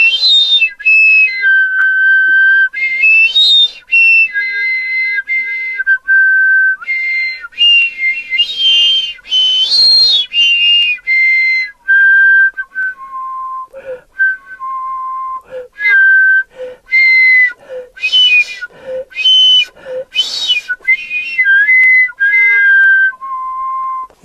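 Melodic whistling through a microphone extension tube used as a percussion-studio instrument, a run of bright, breathy tones near and loud, rising and falling in quick phrases with short gaps and no talk.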